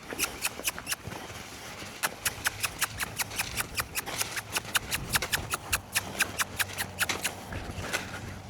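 Horse hooves beat out a steady loping rhythm on a riding surface, dozens of crisp close footfalls in a regular three-beat cadence over more than eight seconds, with no talk over them.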